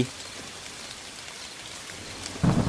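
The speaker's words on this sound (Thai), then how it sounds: "ท่ามกลางสายฝนที่กระหน่ำลงมาอย่างไม่ลืมหูลืมตา" Heavy rain pours down in a dense, steady hiss of drops, loud and continuous throughout, with a heavier thump of water near the end.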